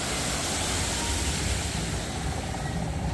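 Waterfall at Disney Springs in Orlando, a steady broadband rush of falling water that stays constant and fairly loud throughout, with no clear voices over it.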